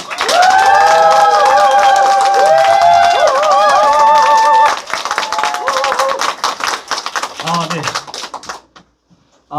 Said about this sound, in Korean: 열렬한 환호의 박수 부탁드립니다